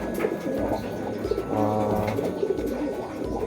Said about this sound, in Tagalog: Yan, ito ibon ni Gilbert Abel.